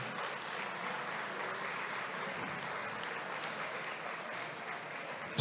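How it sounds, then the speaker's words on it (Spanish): A concert audience applauds to welcome a solo singer representing Santander onstage, giving steady, dense clapping that holds evenly for several seconds without any voices over it. "Vamos entonces a recibir con un fuerte aplauso"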